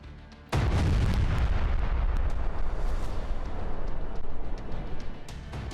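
Missile strike explosions in the Russia–Ukraine war, a sudden heavy boom followed by a long, loud rumbling roar that slowly fades.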